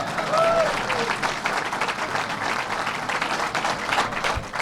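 A round of applause at a New York Islanders press conference about Belmont Park, a steady crowd clapping throughout, fairly distant and moderately quiet, with faint voices mixed in.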